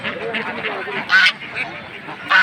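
Ducks quack in a couple of loud, brief bursts at a weekly Saturday village haat in Puthia, where ducklings of the Raja breed are sold, with a steady murmur of people talking throughout.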